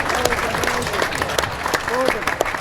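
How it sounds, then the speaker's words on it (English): Spectators applaud and cheer at a racquetball singles semifinal in Lombard, Illinois, lively clapping with shouts mixed in, close and loud, under a commentator's voice. "Listen to this crowd"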